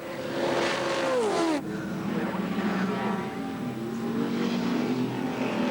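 Group A touring cars at the 1984 Bathurst 1000 roar past a fixed trackside spot on Conrod Straight at full throttle. One loud engine note sweeps down in pitch as it passes, followed by a continuing exhaust drone from more cars.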